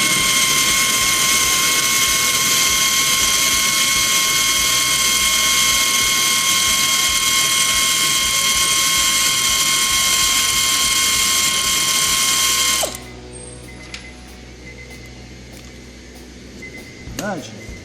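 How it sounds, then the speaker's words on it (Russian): A ratchet with a 10 mm socket on an extension loosens a rear seat side bolt on a Honda Civic 4D, giving a steady, close, continuous clicking for about thirteen seconds before it stops and the cabin falls quiet. "Берем головку с удлинителем на 10. Отворачиваем болт крепления боковины"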